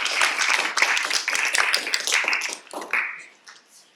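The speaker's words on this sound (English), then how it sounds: "So a round of applause for both of these two individuals." An audience applauds, a dense burst of close clapping that thins out and fades near the end.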